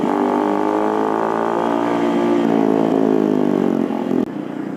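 A motorcycle with an aftermarket exhaust rumbles steadily up close on a night ride through Yogyakarta during Takbir celebrations, its engine note holding a continuous drone before dropping off sharply near the end; no talking.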